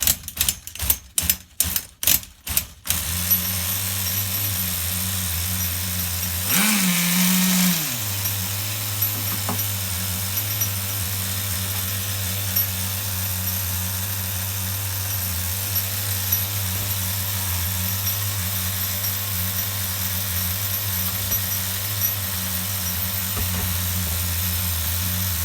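An HPI RS4 Nitro F150 RC car's nitro engine runs rich on the bench. A burst of sharp rapid revving comes first, then a loud rise, and then it settles into a rough, steady low idle that goes on.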